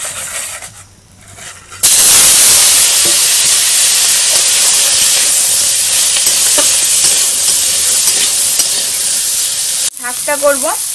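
Small crabs coated in salt, turmeric and chili powder hit hot ghee in a pan and burst into a loud, sustained sizzle. The hiss holds steady for about eight seconds, then drops away into quieter bubbling.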